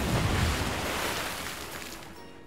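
Rushing water surges and washes like breaking waves as a room fills with water, a loud broad roar that gradually eases and fades toward the end, with no voices.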